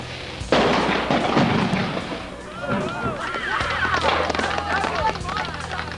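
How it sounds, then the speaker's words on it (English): Microwave blown up with four explosive charges, giving a sudden loud bang followed by crackling debris and rumbling that fade over several seconds outdoors. "The microwave had 4 separate charges placed inside it to create one monumental bang."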